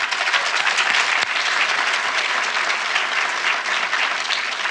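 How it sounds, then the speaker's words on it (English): Sustained audience applause fills the room after a panel discussion on healing the divide between minority communities and law enforcement, a dense, steady wash of many hands clapping at close range with no voices on top. "Please give a round of applause for our panelists."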